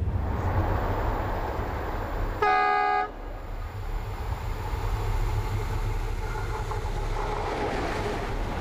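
A passenger train in South Africa gives one short horn blast over the steady low rumble of the moving train. No one speaks.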